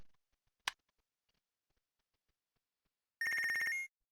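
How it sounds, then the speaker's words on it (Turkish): A phone ringtone in the boxing management game Punch Club rings as one short burst of rapid, bright electronic trills near the end. A single click comes earlier, with silence between. "Telefon çalıyor. Kim arıyor bakalım?"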